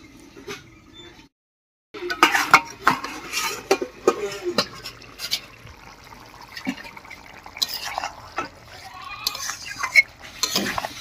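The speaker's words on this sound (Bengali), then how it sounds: "এবারে ঢাকা তুলে নেব।" A lid lifted off a pot of rice, cauliflower and potato cooking on the stove, followed by metallic clinks and scraping of a utensil against the pot, intermittent and close, with a brief silence before it.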